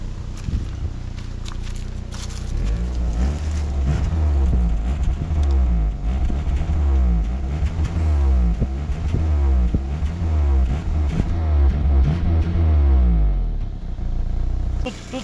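A Daewoo Matiz engine runs steadily up close, a low rumbling idle with some rhythmic clatter and occasional louder surges.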